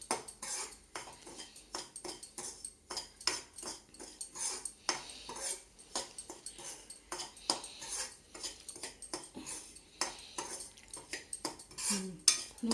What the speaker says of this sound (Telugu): 1 గ్లాస్ ఆఫ్ సూజీ నూక అదే నేతిలో వేపుకుంటున్నానండి.